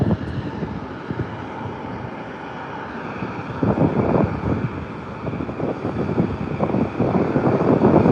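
A jet airliner roars at San Diego Airport at sunrise as planes take off and land, a broad, steady rumble that swells partway through, mixed with gusty wind buffeting the microphone.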